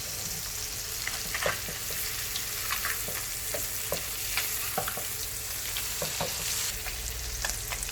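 A fish fillet sears in butter in a pan with a loud, continuous sizzle. Frequent sharp spits and pops are scattered throughout, and there is no talking.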